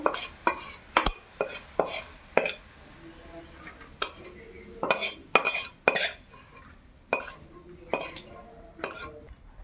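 Fried onions being lifted out of a cooking pan, with a series of sharp metallic clinks and scrapes of a spoon against the pan at irregular intervals, close and fairly loud.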